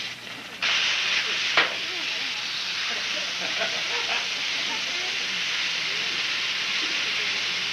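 A pressure fryer cooking chicken in hot fat sends out a loud, steady steam-like hiss that holds for several seconds, with a brief burst near the start and faint voices beneath.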